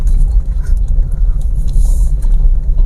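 A car in a congested traffic jam with bikes and scooters weaving around gives a loud, steady low engine rumble as it accelerates, continuous and close throughout.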